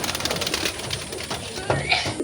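Pigeons coo softly in a loft where one bird sits on eggs, the low burbling calls near and intermittent, with a voice talking through the short clip.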